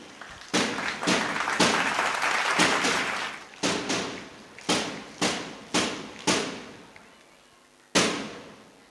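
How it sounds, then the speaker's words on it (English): At a school investiture ceremony, an audience claps in a long sustained burst, then in a series of short, loud, evenly spaced rounds that each fade quickly, with a final burst after a pause. "Give a huge round of applause for them."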